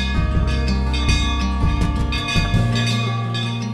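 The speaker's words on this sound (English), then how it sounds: "The bell made by Khan starts ringing as soon as the devotee comes under it or falls his hands beneath it to pay respect to the deity" A sensor-triggered bell at a Shiva temple in Madhya Pradesh, sounding as a devotee passes beneath it: loud, sustained metallic ringing tones layered over one another, with repeated strikes and lingering resonance.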